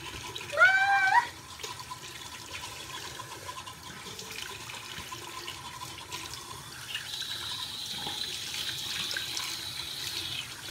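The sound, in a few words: hot water running from a tap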